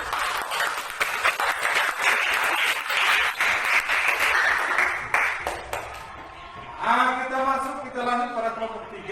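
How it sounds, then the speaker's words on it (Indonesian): Classroom applause for a student group after their discussion presentation, a dense burst of many hands clapping for about six seconds, then fading as a voice begins speaking over the room. "mari kita berikan aplaus untuk"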